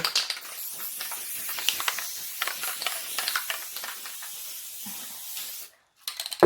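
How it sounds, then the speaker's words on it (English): A steady hiss of aerosol basting spray released in a few short bursts onto fabric, close up, ending in a brief pause and then a final spurt. "Try not to get basting spray on your mat too."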